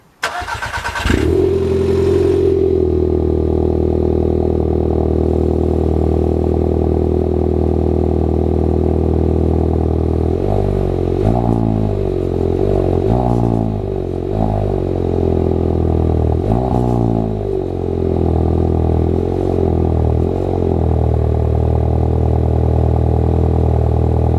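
A 1.2 TSI SEAT Ibiza FR engine cold-starts and idles loudly and steadily, then revs up in several short bursts with sharp blow-off valve hissing releases between them.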